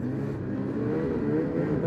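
A Ski-Doo 600 E-TEC snowmobile engine runs close by, a loud, continuous drone that holds steady throughout with no talking.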